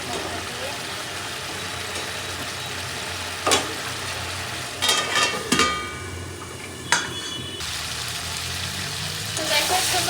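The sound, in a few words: frying potatoes with spice paste in pan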